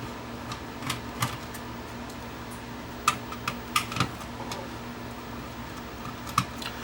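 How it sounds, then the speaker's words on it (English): Screws are undone on a Sony TCRX420 auto-reverse cassette deck, giving scattered small metallic clicks and ticks at close range over a low background hum. "Just undo those, and I gotta undo these screws."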